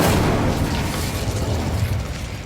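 Incendio fire spell cast in the Hogwarts Legacy video game: a loud, sustained whooshing fiery roar with a rumbling low burst at the start, fading gradually over a couple of seconds, heard alone.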